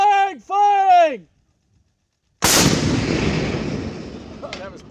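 M3E1 MAAWS anti-armor recoilless rifle firing: a single, sudden, very loud blast with a long rolling decay that fills the air, preceded by someone shouting commands and a brief silence.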